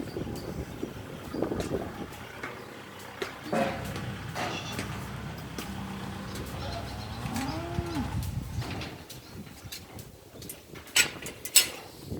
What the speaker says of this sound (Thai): นี่เราก็มาถึงโรงแพะแล้วนะครับ